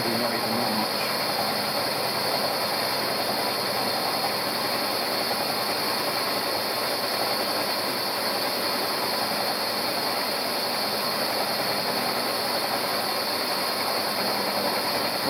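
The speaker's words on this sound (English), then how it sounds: "Just climb milling 10-15 thou." Milling machine climb milling a metal part at 10–15 thou, a steady, loud, dense machining roar with constant cutter chatter and hiss running unbroken throughout, close to the machine.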